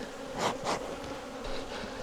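Honey bees drone around an opened hive as supers and a queen excluder are slid aside, a close, steady buzz swelling twice in quick passes and then settling, with no voices.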